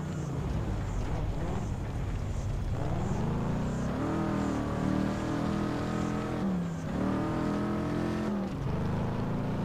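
A Ferrari engine in the racing game Test Drive Unlimited 2 drones steadily and rises and falls in pitch through repeated revs and gear changes, loud and continuous throughout.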